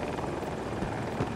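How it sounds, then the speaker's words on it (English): An Apache helicopter in Battlefield 2042 thrums with a loud, continuous rotor chop and engine roar, close and steady for the whole brief moment. "I'm saying we fly the helicopter in there and shoot some rockets."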